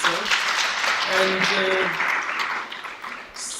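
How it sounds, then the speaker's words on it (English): Brief applause from trainees at a workplace readiness training session, clapping for themselves, a short burst that fades out over a few seconds alongside some speech. "You can clap for yourself."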